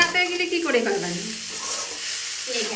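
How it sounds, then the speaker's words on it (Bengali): Grated potato with green chilies and spices fries in a hot pan, a steady close sizzle with stirring underneath, while a voice briefly talks over it near the start. "এবার আলুটা মশলার সঙ্গে ভালো করে কষে নিতে হবে"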